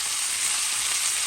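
Bacon and hot links fry in a pan on a stove set to medium-low, giving a steady, close, bright sizzle with dense crackling that runs without a break.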